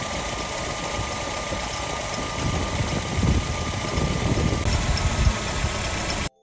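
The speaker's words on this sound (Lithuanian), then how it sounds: "užvedu variklį ir pabandysiu nuorinti" An Audi 80 quattro engine, its cooling system under repair, runs at a steady idle with a close, rough mechanical hum and slight knocking vibration, rising a little midway before cutting off abruptly at the end.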